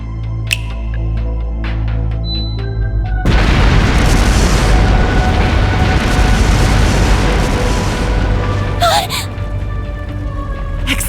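Explosive artifacts go off in Trails through Daybreak, starting as a sudden massive boom that swells into a long, loud rumbling roar lasting several seconds before fading under game music.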